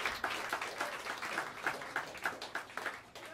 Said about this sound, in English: Please bring your hands together and give a warm round of applause for the great Tom Rainey on the drums